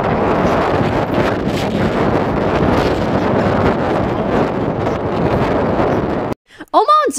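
Strong crosswind on a hiking trail buffets the microphone in a steady roar for several seconds, then cuts out abruptly, followed by a brief whistle-like sound at the end.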